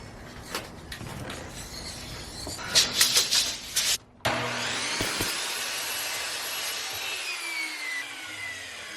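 A saw cuts a wooden part at a 12-degree angle with rasping, uneven strokes and knocks, then a power tool motor whines and slowly winds down.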